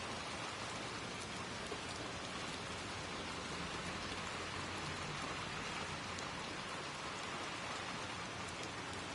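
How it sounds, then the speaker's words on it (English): Rain in the Little Nightmares II game, set in the Pale City: a steady, soft, even hiss of falling rain, continuous and unbroken, with no voices over it. "I like the rain effect."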